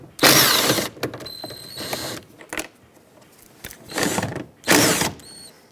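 Two 10mm bolts are backed out of the door trim on a 2007-2014 Chevrolet Silverado 2500HD with a ratchet, giving several loud bursts of rapid clicking separated by short pauses and faint handling noises.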